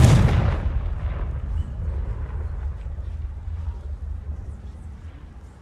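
Confringo fire spell explosion in a Harry Potter-style video game: a loud sudden blast up front that decays into a long rumbling, windy roar fading over several seconds.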